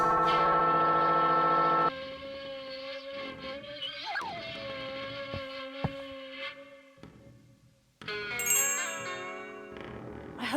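A bell in The Night of the Rabbit video game rings loud and sustained with rich harmonic overtones, then rings again after a brief drop, the tones decaying and wavering over roughly ten seconds.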